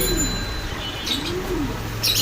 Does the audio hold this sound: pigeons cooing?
yes